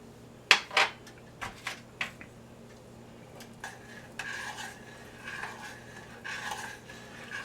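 A spoon stirs black-eyed peas with a spoonful of white sugar in a pot, starting with a few sharp metal clinks against the side, then softer scraping and swishing strokes, close and without talk.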